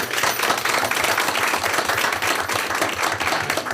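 Audience applause rings out for three trailblazers at a university board of trustees committee meeting, as a steady, dense wash of clapping with no voices, holding at an even level throughout.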